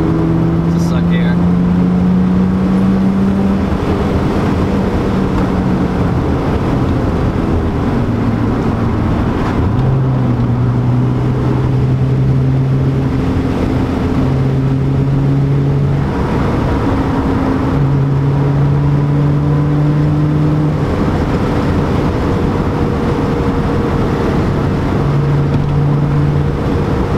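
Nissan 350Z engine and air intake pulling under acceleration inside a light car, a steady low drone rising through gear changes, with repeated climbs in pitch and a person talking over it.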